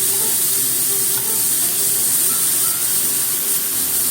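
Mushrooms pan-frying for a marinade give off a steady, fairly loud sizzle and hiss that runs without a break. No one speaks over it.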